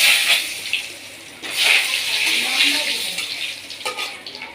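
Cut, washed potatoes dropped into hot oil tempered with cumin, setting off a loud, close, continuous hiss and crackle of frying that surges and then settles into a steady sizzle.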